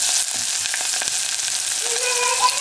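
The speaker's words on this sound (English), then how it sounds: "heat some more oil. First I'm going to put chopped onion." Chopped onion frying in hot oil in a pan for drumstick sambar, a loud, dense, continuous sizzle heard close up with faint stirring clicks and no talking.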